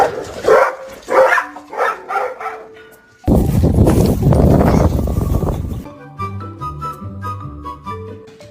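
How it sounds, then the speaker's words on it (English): A dog barks loudly and repeatedly at close range in short bursts, followed by a stretch of broadband noise and then a rhythmic musical passage; brief speech is present. "don't you bark at me"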